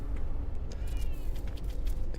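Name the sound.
cat meowing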